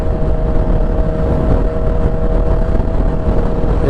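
A 2017 Yamaha R6 sport motorcycle riding, its engine a loud, steady drone with wind rush throughout and no clear revving changes; no talking.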